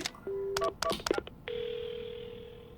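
A telephone in the video game Paranormasight dials: a series of short clicks and beeping tones, then a steady sustained dial tone that continues to the end.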